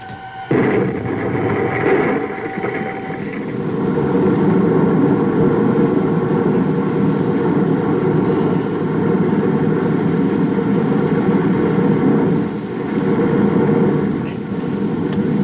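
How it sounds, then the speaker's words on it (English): A rocket engine fires as a 1950 space radio drama sound effect: a loud, steady roaring rush that holds for about fifteen seconds with slight swells, with no voices over it. "Stand by to fire rocket."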